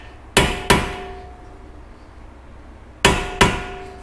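Four sharp metallic taps of a hammer striking a screwdriver to drive out brake caliper pins on a Mitsubishi Evo X, struck in two quick pairs separated by a pause, close and fairly loud.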